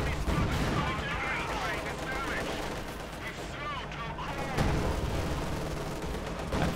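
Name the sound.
gunfire and artillery in Company of Heroes 2 video game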